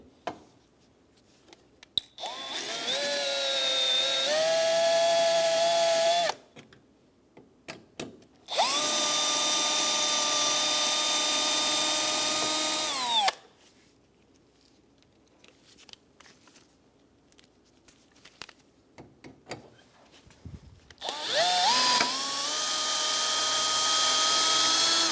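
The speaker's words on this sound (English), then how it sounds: "Using a drill bit, we're going to drill out the two rivets for the bumper bracket." A power drill bores out the riveted bumper bracket on a Chevrolet Sonic, running in three long loud whining bursts that shift pitch as the bit bites, with quiet pauses and small clicks between.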